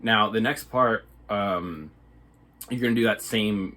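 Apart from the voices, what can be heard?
No everyday noises stand out.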